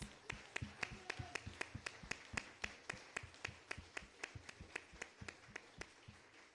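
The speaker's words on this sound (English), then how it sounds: "give the graduates a rousing round of applause" Steady, evenly spaced claps at a graduation ceremony, sharp and distinct, repeating in a regular rhythm at a quiet level.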